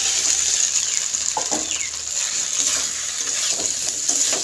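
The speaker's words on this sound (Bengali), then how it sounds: "এখন আমি সবজিগুলো আগে থেকে ভেজে রাখা সবজিগুলো দিয়ে দিচ্ছি।" Pre-fried vegetables for a rohu fish curry with cauliflower and potato go into spice paste with oil in a pan, sizzling with a steady hiss while a utensil stirs and scrapes through them.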